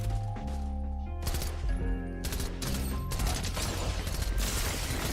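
Bursts of rapid gunfire in the video game Fortnite, growing denser and more continuous toward the end, layered over tonal game sounds.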